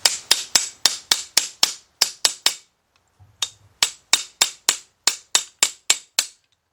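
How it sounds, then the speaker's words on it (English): A ratchet is used as a hammer to knock a part flush against the alternator during a Nissan head gasket job: rapid series of sharp metallic knocks in quick bursts, with a brief pause and low thud midway. "And here I go again using my ratchet as a hammer."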